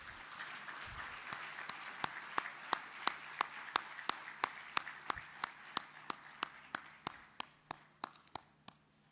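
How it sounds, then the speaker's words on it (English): An audience applauds at a fintech festival fireside chat: a steady wash of clapping with sharp, evenly spaced claps standing out in a regular rhythm, moderately distant. "Please, a big round of applause."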